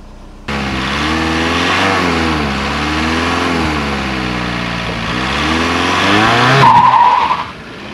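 A VW TDI with the ALH diesel engine, fitted with upgraded injector nozzles, pulls away and accelerates with a rising and falling engine drone and harmonic whine for several seconds, loud and close, then drops off sharply near the end.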